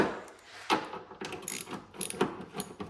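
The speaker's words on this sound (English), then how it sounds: "now I'm just removing these" A hand ratchet backs out small 8mm screws on the front bumper of a 2016 Range Rover Sport, giving a few short bursts of close mechanical clicking spaced by quiet pauses.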